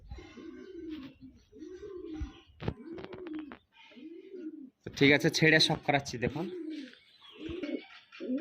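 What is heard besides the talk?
pigeons cooing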